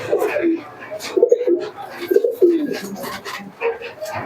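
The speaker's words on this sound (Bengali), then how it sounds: "কবুতরগুলো একটু ভালো করে দেখে নাও" Pigeons for sale at a shop coo in a few short, low, rolling phrases close by, with a voice talking intermittently between the calls.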